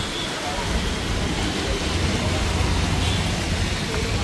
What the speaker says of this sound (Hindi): बारिश ही बहुत हो रही है